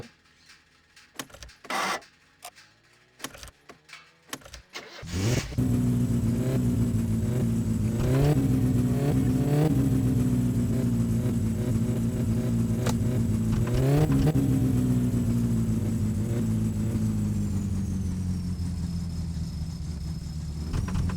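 Starter clicks and sputters give way to an old car's engine catching in My Summer Car, then a steady close idle with several blips of revving. The car seems to have no clutch, and nobody talks over the engine.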